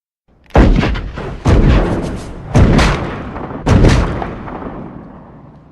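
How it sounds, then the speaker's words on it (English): Four heavy gunshots boom one after another, about a second apart, each leaving a long decaying rumble that fades into quiet. "In the distance, I heard some gunfire, before they came to an abrupt halt."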